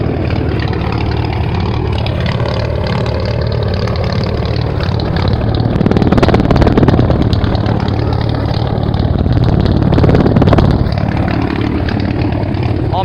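Ford 300 inline six with a straight pipe idling, a loud continuous rumbling drone close by that swells slightly now and then, with some talk faintly mixed in.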